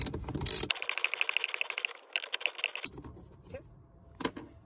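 Hand ratchet backing out bolts on the top hull of a Sea-Doo Spark Trixx, with close, rapid clicking strokes broken by short pauses and a final brief click.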